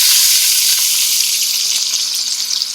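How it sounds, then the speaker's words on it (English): Onions, celery and carrots sizzling in a pan for tamarind-braised short ribs, a loud, close, continuous frying hiss with small crackles and pops, no talking. "We're going to throw in all of our veggies, our onions, celery, carrots, and wait a few minutes to put the garlic in"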